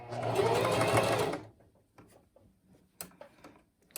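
A sewing machine back stitches fabric, a close rapid mechanical chatter for about a second and a half, then stopping, followed by scattered soft handling taps and clicks.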